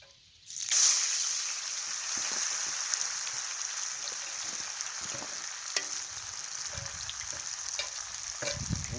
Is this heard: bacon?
yes